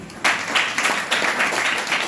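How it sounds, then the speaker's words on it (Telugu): A classroom of students giving a short burst of applause for a correct answer, steady close clapping from many hands lasting a couple of seconds. "వెరీ గుడ్ క్లాప్స్ ఇవ్వండి"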